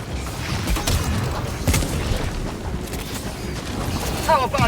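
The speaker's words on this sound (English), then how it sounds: "Throwing grenade!" Grenade blast in a chaotic video game firefight, a dense rumbling boom amid continuous battle noise and effects, loud throughout.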